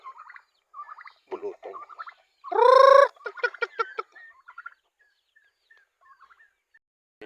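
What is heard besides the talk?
turkeys gobbling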